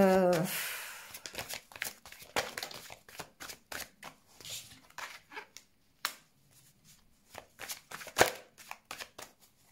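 Tarot-style cards shuffled by hand for a card reading, a close run of quick riffling flicks and soft slaps in an irregular rhythm, alone without talk.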